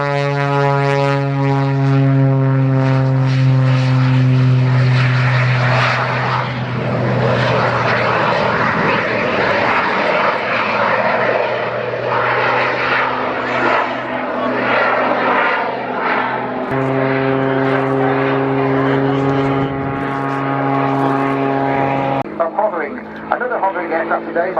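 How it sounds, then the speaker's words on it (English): Display aircraft with a propeller and two jet engines flying at an air show, a loud sustained engine drone with shifting tonal whine, heard under continuous commentary throughout. "It's the one with a propeller and 2 jets."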